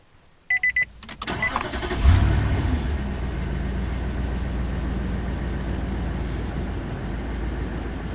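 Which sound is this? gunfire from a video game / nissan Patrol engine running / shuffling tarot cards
nissan Patrol engine running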